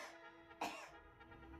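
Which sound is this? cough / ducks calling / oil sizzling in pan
cough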